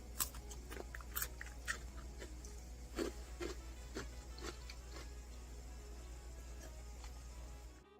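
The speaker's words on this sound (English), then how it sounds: "Into that crunchy pickle." Someone bites into a crunchy pickle and chews it up close. Several sharp, crisp crunches cluster near the start, followed by softer intermittent chewing clicks over a steady low hum, with no talking.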